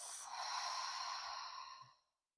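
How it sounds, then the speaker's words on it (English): A single long exhale through the mouth during yoga, a soft airy breath lasting about two seconds before fading to silence, heard alone and close. "Breathing in and out, in through the nose and out through the mouth."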